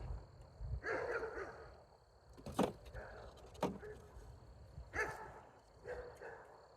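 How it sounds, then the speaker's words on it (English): Several dogs bark in short bursts at a moderate distance from a garden, with sharp yelps scattered over a few seconds amid quiet outdoor background. "I guess y'all can hear my dogs bark."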